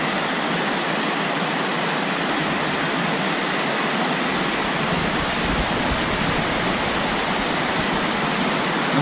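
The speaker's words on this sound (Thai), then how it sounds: "น้ำตกวังก้านเหลืองครับ" Wang Kan Lueang waterfall in Lopburi during the rainy season, a loud, steady roar of rushing water that fills the whole span without pause or voices.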